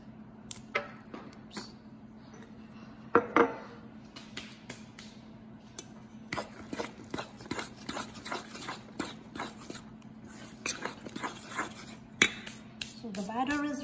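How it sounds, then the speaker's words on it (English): Walnuts crushed by hand over chocolate banana cake batter give a run of small, sharp crackling snaps and crunches, scattered irregularly over a steady low hum, close and fairly quiet. "I'm just crushing it over and adding some walnuts in here."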